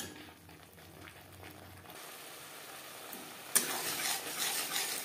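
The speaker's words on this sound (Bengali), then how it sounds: "হাই টু মিডিয়াম ফ্লেমে আরও 3-4 মিনিট নাড়াচাড়া করে নেব।" Fish curry masala stirred in a pan over a high flame, a soft scraping and sizzle that jumps louder and brighter partway through, with no talk.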